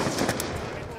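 Shotgun fire in Black Ops 2 multiplayer, a dense, noisy burst of gunfire with a couple of sharper blasts, mixed in with game sound and voices.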